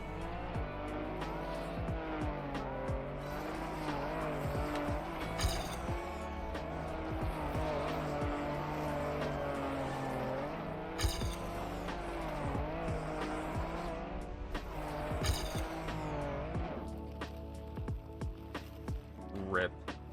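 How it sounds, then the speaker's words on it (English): A rally car driven on snow in the racing game Trackmania, its engine droning steadily with shifting pitch, brief skids and tire noises breaking through, loud and continuous with game music or effects layered around it. "the rally car actually gets like decent acceleration in the snow"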